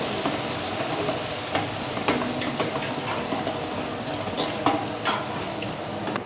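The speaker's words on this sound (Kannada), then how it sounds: "ಈರುಳ್ಳಿ ಗೋಲ್ಡನ್ ಫ್ರೈ ಆಗೋವರೆಗೂ ಫ್ರೈ" Half a kilo of chopped onions frying in a pan for chicken biryani in a hotel kitchen, a steady close sizzle with the scrape of stirring running throughout.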